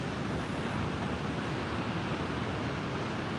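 Ocean surf on the Northern California coast during a tsunami advisory, with larger waves than normal, a steady broadband roar of breaking water mixed with wind buffeting the microphone, continuous and fairly loud.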